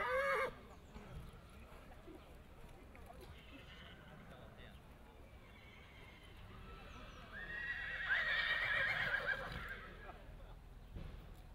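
Lot 41, a racehorse, being walked at the 2017 Chaser Day horse sale: hooves clip-clop steadily and a loud whinny rises midway, over a sale-ring voice talking through a crowd.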